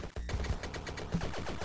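Machine gun fire in the video game Iron Meat, a rapid run of regular punchy shots lasting the whole moment, loud and close, with no voices.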